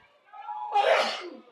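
A single sharp sneeze bursts out at a college softball game against West Alabama, loud and close, rising over a faint murmur and sports commentary in the background.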